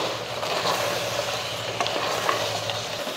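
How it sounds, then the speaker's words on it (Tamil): A spoon works mutton masala powder into mutton curry in a pan, producing a steady, close scraping and stirring texture with faint sizzling throughout and a few brief clicks, with no talking. "அதையும் நல்லா கலந்து விட்ருவோம்"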